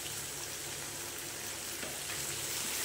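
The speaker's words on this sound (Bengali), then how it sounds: "বন্ধুরা এবারে দিয়ে দিলাম মশলাটা কষার জন্যে।" A spice paste of cumin, chili and coriander frying in a pan, a soft, even sizzle heard close and alone, fairly faint throughout.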